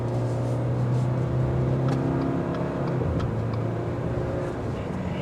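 A 2023 Subaru Crosstrek Premium is heard from inside the cabin while driving, with a steady engine hum and road noise that hold at an even, moderately loud level throughout and include a few faint clicks.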